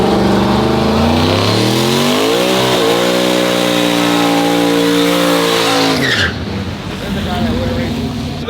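A Ford truck revs hard and races at a truck fest, its engine climbing through a long, loud, steady pull before cutting off abruptly, followed by quieter crowd and ambient noise.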